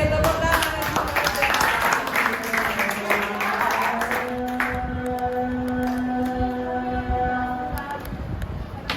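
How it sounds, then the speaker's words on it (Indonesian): Children in a classroom clap together in a burst of applause that fades after a few seconds, with young voices chattering and calling out over and after the clapping. "Oke, tepuk tangan."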